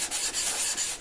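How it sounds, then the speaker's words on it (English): A planer blade is sharpened on sandpaper, a close dry rasping rub in a few quick back-and-forth strokes, alone. "with each grade of sandpaper, it gets a better finish"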